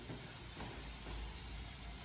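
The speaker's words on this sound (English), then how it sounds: "steam or whatever coming off from this old boiler" Steam hisses from an old boiler in an old YMCA building, a faint, steady, unbroken hiss with a low rumble underneath and no voices.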